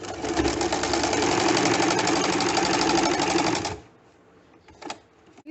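A sewing machine runs in one steady, loud burst of rapid stitching as it sews around the outline of a square flat collar, starting from the back opening. It stops abruptly, leaving a few faint clicks and handling sounds.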